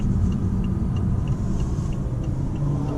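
A BMW i8 supercar's three-cylinder engine hums steadily at half throttle, a close, continuous low rumble with no talking.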